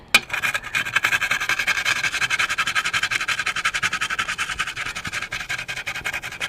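A stiff brush scrubs an old 1991 Mitsubishi 3000GT ECU circuit board, a steady rapid bristly rasping that runs close and unbroken for several seconds.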